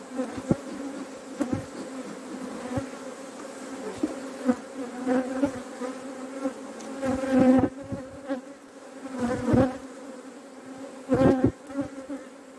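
Honeybees hum around a hive in a continuous close drone, with individual bees swelling louder as they pass near and a few soft knocks underneath; no talking.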